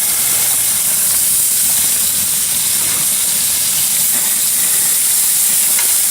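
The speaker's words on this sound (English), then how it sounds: "Ooh, the butter is really lighting up when I do that." Butter flares up and sizzles on a grill under a Costco prime steak, a loud, steady, close hiss that continues without break.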